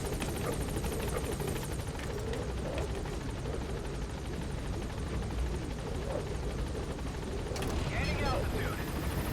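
Pequod, a helicopter at a landing zone in Metal Gear Solid V: The Phantom Pain, gives off a loud, steady rotor roar that fills the whole stretch, with voices mixed underneath.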